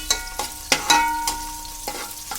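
Two green chilies frying in a pan for a cabbage and dal curry, with a close, steady sizzle broken by several sharp stirring scrapes and clatters.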